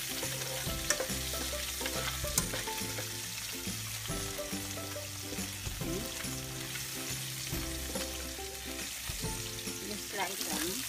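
Garlic sautéing in a pan for Filipino pork bistek, a faint continuous sizzle with intermittent stirring clicks and a low background hum, no talk.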